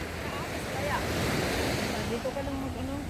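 Ocean waves wash onto a beach at dusk with a steady roar and wind buffeting the microphone, while people talk quietly nearby.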